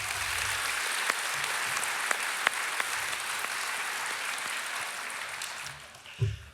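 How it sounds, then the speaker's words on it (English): A school audience applauds a primary school concert band at an awards celebration, steady dense clapping with no talk that holds for about six seconds before tapering off. "Can we please give them another round of applause?"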